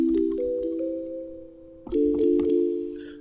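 A second brush bells preset on an Operator synthesizer plays mellow, sustained bell tones that shift in pitch, then fade to a quiet pause before a brushed hit and a new chord swell in, close and without talking.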